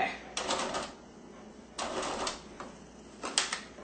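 Domestic sewing machine stitching an appliqué flower in short bursts, three separate runs of fast mechanical clatter with pauses between as the work is repositioned, close and clear.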